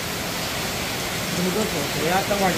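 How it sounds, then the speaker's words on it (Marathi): Dense, steady morning downpour of rain roars close by in Chandigarh, with a voice briefly speaking underneath toward the end. "धो धो धो पाऊस."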